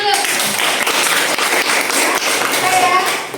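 Children clapping hands together in a classroom, a dense, steady burst of many hands that is loud and close, with voices mixed in.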